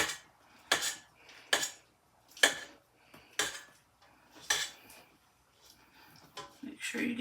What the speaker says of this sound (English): I'm going to scrape everything down right quick.